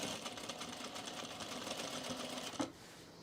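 A sewing machine stitches the fly facing of men's cargo shorts in a continuous, fast, even run of needle strokes, close and steady, stopping abruptly with a thump near the end.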